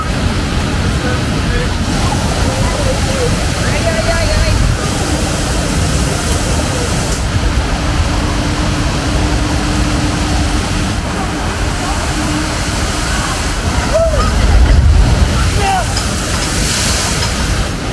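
Continuous rushing water from a theme park water ride's waterfall at Hellendoorn roars throughout, loud and close, heard on the ride, with a steady wash of noise and a brief splashier swell near the end.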